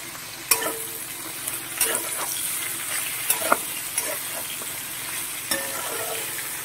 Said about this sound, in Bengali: এবার পটলটাকে একটু ভাজা ভাজা করে দেবো।